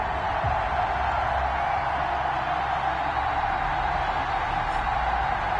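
Video game stadium crowd in Madden NFL 21, Las Vegas Raiders against the New York Jets, a steady wash of distant cheering and murmur that holds evenly throughout.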